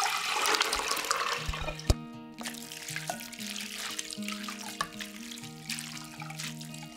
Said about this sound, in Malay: Tapis kacang dal.